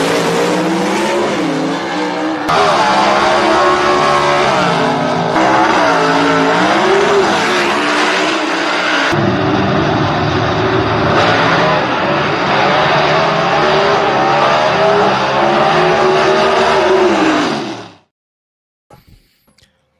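Southeast Gassers Association drag cars launch at Knoxville Dragway, a loud, close roar of racing engines revving hard with squealing tires and shifting pitch for about eighteen seconds, then cutting off abruptly into near silence.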